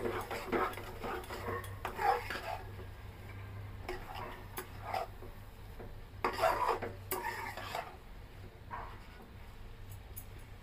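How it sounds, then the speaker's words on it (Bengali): Rava vegetable upma being stirred in a pan, a steady scraping and rubbing of a spoon against the metal with occasional louder strokes, close and continuous with no talking. "এবার ভালো করে মিশিয়ে নিতে হবে।"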